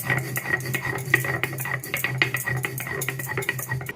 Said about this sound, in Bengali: আমি এখানে একটা শিলনোড়া নিয়ে নিয়েছি। এবার এতে দিয়ে দিচ্ছি চা চামচের হাফ চামচ লবণ, অল্প করে ভাজা জিরে। প্রথমে এটাকে খুব ভালো করে বেটে নেব।